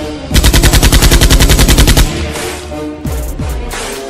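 Automatic gunfire from the Call of Duty video game rattles in a loud rapid burst of about a dozen shots, then fainter scattered shots and game effects follow.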